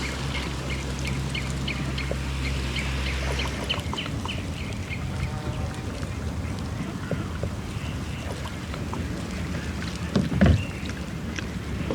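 A small boat is paddled on a scenic lake, with soft rhythmic water splashes and a steady low rumble, while ducks and other birds call in the background.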